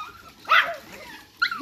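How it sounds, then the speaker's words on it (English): Excited dogs give two short, sharp barks indoors during ball play, the first louder and the second quicker, with quiet room ambience between them. "Everyone's barking."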